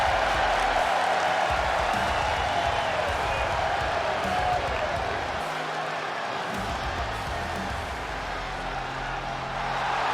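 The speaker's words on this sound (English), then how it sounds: "The crowd's rowdy here tonight" A rowdy crowd at a WCW wrestling show roars steadily throughout, a dense, loud wash of cheering and shouting with no pauses.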